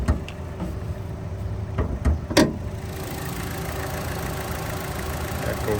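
A 2014 Buick Encore engine idles with a low, steady hum, interrupted near the start by a few sharp clicks and knocks before settling into an even, close drone.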